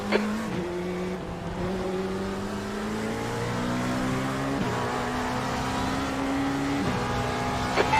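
Several race cars scrapping for position on track in rFactor 2, engine notes rising and stepping through gear changes, close and loud with a faint tyre squeal and no talk.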